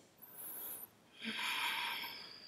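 Soft, close breaths drawn and released while holding a yoga pose in a heart-opening session, one airy inhale followed by a longer exhale, quiet and unaccompanied.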